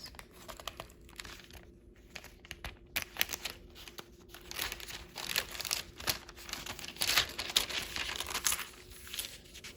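Thin Bible pages being flipped and turned close by, a steady run of soft crinkling rustles and papery swishes that grows busier and louder toward the end, with no talking.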